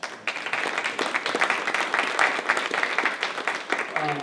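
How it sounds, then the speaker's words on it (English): Sustained applause from a crowd, steady clapping throughout with a dense, even texture. "please give him a round of applause."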